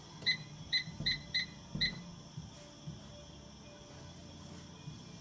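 A kitchen timer set for cooking boxed penne beeps five times in quick, bright pulses at the start, then goes quiet against a faint kitchen background.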